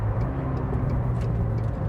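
A McLaren 720S engine under full throttle, heard from inside the cabin as a steady, fairly loud low drone that stays even throughout with no talk.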